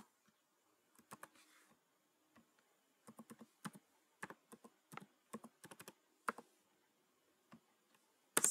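Fingers type a name on a computer keyboard, giving sparse clicks and then quicker bursts of keystrokes. The tapping is close and crisp over near silence, with a louder clatter at the very end.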